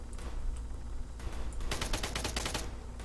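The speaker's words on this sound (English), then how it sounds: "I hear gunshots." Rapid bursts of gunfire from the video game Arma 3, with several quick shots clustered together in a loud volley near the end after scattered earlier reports.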